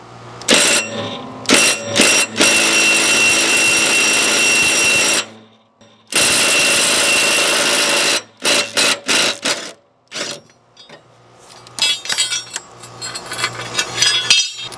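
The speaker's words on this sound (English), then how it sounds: "Take your impact driver, put it on counterclockwise or reverse, and just get this bolt out." Impact driver spinning in reverse to loosen a tight blade bolt on a Hustler Raptor mower: loud bursts of rapid hammering whir, two long runs then several short stuttering pulses and clinks, close up.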